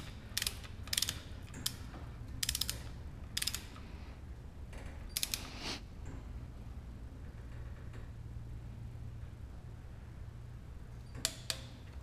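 A torque wrench ratchets on bolts during an LS engine swap into a Porsche 944, giving several short bursts of quick clicking separated by pauses, faint and close, over a low hum.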